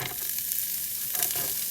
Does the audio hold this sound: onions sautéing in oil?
yes